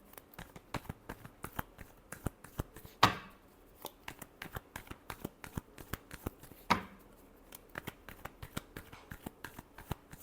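A deck of tarot cards is shuffled by hand in a steady series of crisp, close flicking riffles, with two sharper slaps along the way and no voices.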